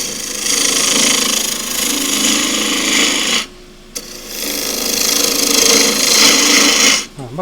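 Three-quarter-inch continental gouge cutting a Himalayan cedar goblet on a wood lathe at 1800 rpm, a loud continuous rasping hiss that briefly pauses mid-cut before resuming.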